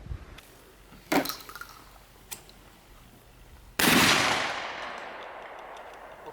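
Shotgun shots at clay targets ring out outdoors: two sharp reports early, a fainter crack between them, then one loud blast whose echo decays over the last seconds, with no voices.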